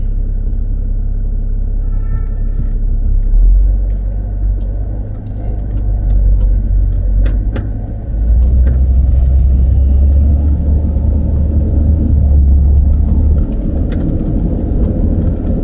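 A car drives through the streets of Monaco, its steady low engine and road rumble running close and continuous, with no talk over it.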